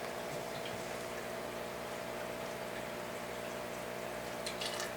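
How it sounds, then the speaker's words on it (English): Clean water from a bucket is poured onto a spray bar filter in a betta aquarium, producing a steady, dense splashing and trickling wash that runs unbroken at moderate level throughout. "I'm pouring it on top of my little spray bar filter so I don't get too much splashing"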